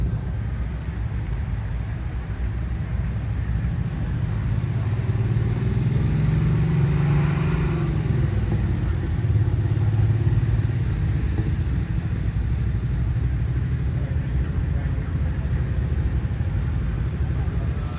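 Motorcycles pulling into a busy service area at the Sturgis rally, a loud continuous engine rumble close by that swells slightly midway as bikes arrive, with a faint voice underneath.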